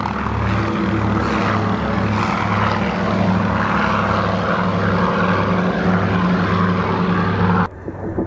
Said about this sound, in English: it's followed by the unmistakable shape of the Consolidated PBY5A Catalina.